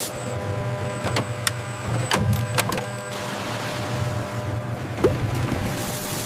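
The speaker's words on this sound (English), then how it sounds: "Now we wash, engineered so strawberry get clean without being destroyed." Strawberries on the washing line of a modern jam factory, with steady machinery hum and a broad rushing wash of spray, broken by sharp clicks and knocks from the equipment.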